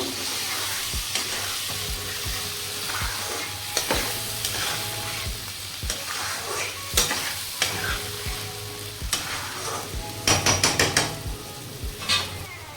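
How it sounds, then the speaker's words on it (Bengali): Cumin, turmeric and chili powder with salt are stirred and fried in a pan for a spicy katla fish and potato curry, giving a steady close sizzle broken by repeated spatula scrapes and knocks, busier toward the end. "জিরার গুঁড়ো, হলুদ গুঁড়ো, লঙ্কা গুঁড়ো, নুন দিয়ে দিলাম। এবার ভালো করে কষিয়ে নেব।"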